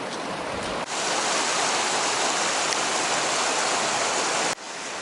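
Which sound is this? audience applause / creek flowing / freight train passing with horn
creek flowing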